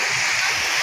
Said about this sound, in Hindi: यहाँ पर देख सकते हैं कलकल की आवाज़